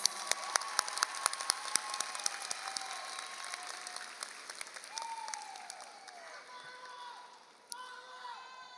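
Audience at a high school graduation ceremony applauds for Dr. Burks, steady clapping that thins and fades over several seconds, with a few stray claps near the end.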